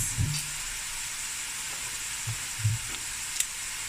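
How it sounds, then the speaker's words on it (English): Three cardamom pods sizzling in a hot pan for a mince curry, a steady bright frying hiss with a few soft knocks and stirring thumps, close and unaccompanied. "I'm going to add three cardamom pods."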